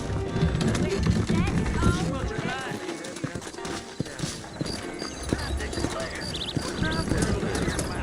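Horse hooves clip-clop in a steady trot in the video game Red Dead Redemption, with a horse whinnying and a voice talking over the busy soundscape.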